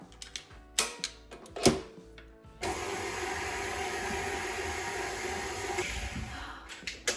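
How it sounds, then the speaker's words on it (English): A mixer whirs steadily as it creams butter and Biscoff spread, starting after a few clicks and clunks and then running loud and even for several seconds before stopping. "I'm just going to cream this until it's really pale and fluffy"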